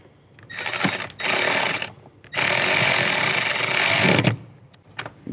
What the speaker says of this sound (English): then we can tighten it up with our 10mm socket